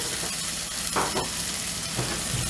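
Sofrito frying in canola oil in a pan, a loud continuous close-up sizzle with a couple of brief stirring scrapes, no talking.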